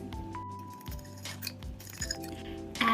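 Almond flour being stirred into melted butter in a glass for keto microwave bread, with repeated close clinks and taps of a utensil against the glass in an uneven rhythm and no talking.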